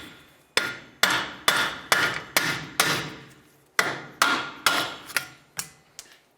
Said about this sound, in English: just use a hammer on the forward side here. We're going to give the bearing a couple loving bonks.